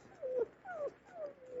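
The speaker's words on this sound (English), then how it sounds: "We got to get away from these dogs." Dogs in an old 1930s comedy radio broadcast whimper and yip in a string of rising, whining cries, three or four drawn-out yelps close together at moderate volume with no voices over them.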